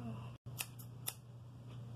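A pair of scissors snipping hair in a salon, giving a few short, crisp cuts close by in a quiet room.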